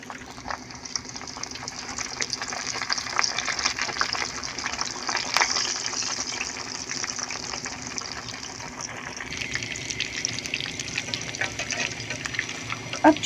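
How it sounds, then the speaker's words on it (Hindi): Mini paratha dough fries in hot oil in a pan, a steady close sizzle and bubbling hiss that softens slightly near the end. "आंच हमें थोड़ी सी तेज़ कर देनी है ताकि ये जल्दी से जो है अच्छे से फ्राई हो जाए"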